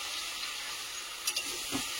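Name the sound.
meat with pui shak stems sizzling as it is stir-fried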